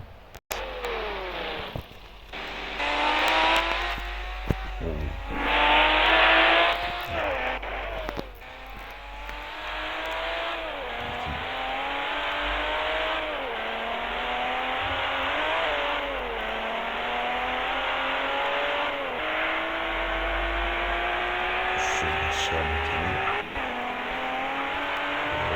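A car with a 39-region plate accelerates hard during a speed test, the engine note climbing through repeated gear changes in a sustained, loud, close drone with occasional bumps and thuds, no talking.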